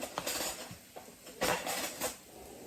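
Spoons and cutlery clink and rattle against dishes nearby in a few quick bursts of metallic handling, with no talking.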